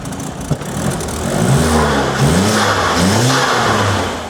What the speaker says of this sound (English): The car still starts.